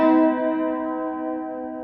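A piano sounds a major third, the root and third of a major scale struck together, ringing clearly as one sustained interval that slowly decays with no other sound.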